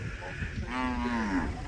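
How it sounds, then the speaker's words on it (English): A single cow gives one long, loud, close moo on a cattle ranch in Paraguay, with low rustling before it. "You can see the cattle."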